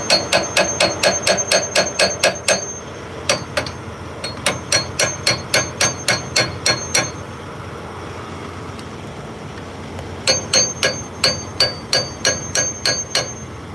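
Rapid metal-on-metal hammer blows strike a supercharger blower during an oil and oil seal change, coming in fast ringing bursts separated by short pauses, loud and close with no talking.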